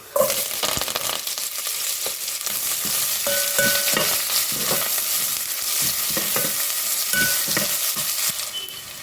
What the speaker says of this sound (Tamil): ஒரு பெரிய வெங்காயம் கட் பண்ணி வச்சுருக்கேன் போட்டுடலாம்